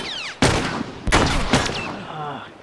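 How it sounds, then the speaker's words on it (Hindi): Loud gunfire in the video game The Last of Us: two or three sharp, close bursts of shots in quick succession, with brief high electronic tones before and after. "इतनी गोलियाँ चल रही है."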